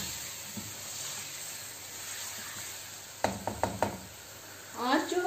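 Bone-in chicken pieces going into hot oil in a home kitchen pan for korma, a steady soft sizzle and hiss with a few clattering knocks and a sudden burst of spitting near the end.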